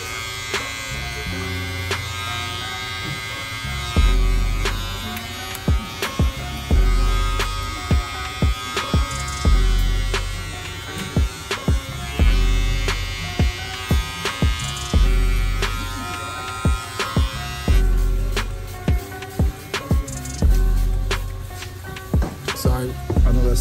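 An electric hair trimmer buzzes in repeated close, loud bursts while cutting a receding hairline, stopping and restarting in short passes with quiet gaps between them.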